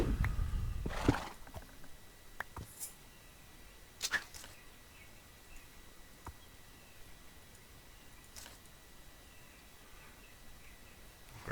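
Video game horse sounds: a loud neigh near the start, then sparse clip-clop hoofbeats and short sharp effects spread across the clip, with no talk.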